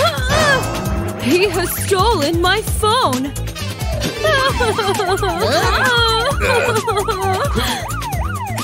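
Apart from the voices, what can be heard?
police car siren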